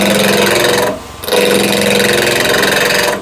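Wood lathe turning a spindle at 1300 RPM during roughing down with a 32 mm gouge, a loud steady whirring drone with a brief quiet gap near one second before resuming strongly.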